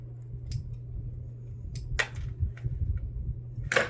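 Scissors snipping loose threads on a sewn bag, several short crisp clips spaced irregularly over a low steady hum.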